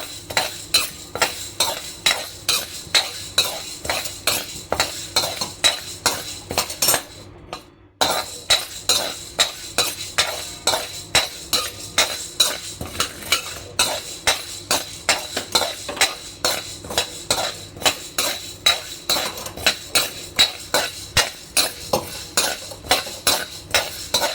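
Chana dal dry-roasted in a kadhai, stirred with a metal spoon in a fast, steady rhythm of scraping clinks, close and loud, with a short pause partway through.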